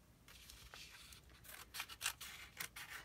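Scissors snip through paper while an Easter mini photo album is being made, a handful of crisp, quiet cuts with a few louder bursts spaced irregularly near the end, heard close and alone.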